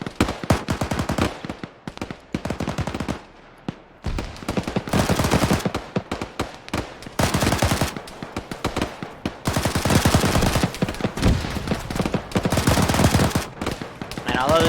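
Heavy bursts of RPK machine gun fire in Arma 3, long rattling strings of shots with brief gaps between them, loud and close throughout.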